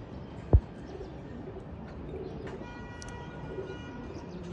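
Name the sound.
katamoni pigeons cooing in a cage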